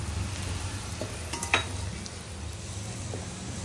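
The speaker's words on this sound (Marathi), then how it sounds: "मसाल्यावाल्याने मसाले तेलात भाजून घे" Malvani masala and onion fry in hot oil with a steady, soft sizzle, continuous and fairly faint, with a brief scrape or clink of a utensil partway through and no talking.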